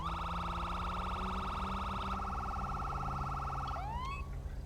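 Police car siren in GTA V with the LSPDFR mod, a loud steady wail that switches to a different tone partway through, then shifts into a quick rising yelp near the end.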